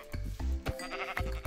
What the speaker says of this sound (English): There's a sheep out there.